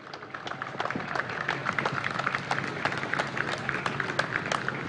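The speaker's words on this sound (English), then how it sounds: "Give them a round of applause, please" Outdoor applause from a crowd at a Veterans Day parade, steady clapping with scattered sharper claps, moderately near and continuing for several seconds.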